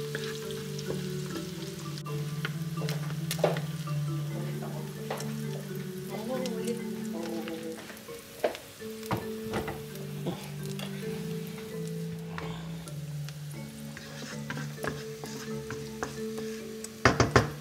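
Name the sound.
garlic frying in a pan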